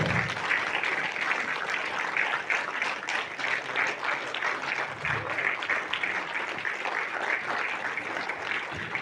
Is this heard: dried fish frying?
no